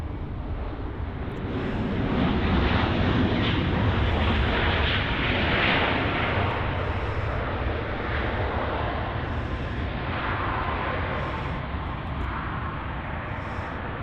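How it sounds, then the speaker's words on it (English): Boeing 737 MAX 8 from Vancouver touching down on runway 24R at Los Angeles airport: a steady, broad roar of jet engines that swells and then holds, heard from a distance as one continuous rumble without speech. "the Boeing 737 MAX 8 AC550 from Vancouver. There it is now, just about to touch down on runway 24 right"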